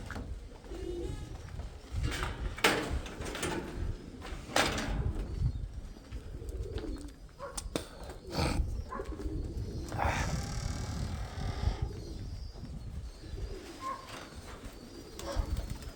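Pigeons coo softly and repeatedly, with occasional wing flaps and rustling, in a quiet outdoor setting without talk.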